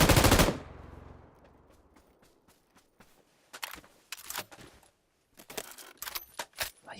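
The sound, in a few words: gunfire shooting in GTA Online video game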